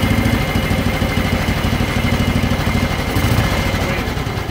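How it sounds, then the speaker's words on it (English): A 1960 Norton ES2 500cc motorcycle engine idles close by with a steady, rapid low thumping pulse that stays even and continuous. "That engine is very quiet."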